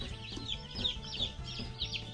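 Baby chicks in a brooder cheep and peep continuously in high, overlapping chirps, a close, busy flock with steady chatter and no talking.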